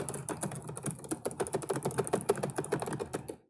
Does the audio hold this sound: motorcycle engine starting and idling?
no